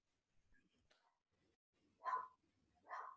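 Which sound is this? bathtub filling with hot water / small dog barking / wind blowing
small dog barking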